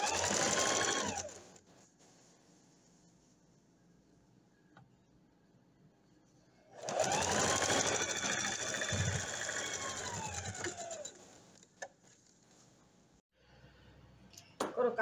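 Sewing machine stitching the seam of a dress lining, running in two long steady bursts of whirring stitches separated by a quieter pause, close and loud.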